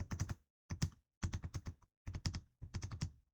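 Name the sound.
typing on a computer keyboard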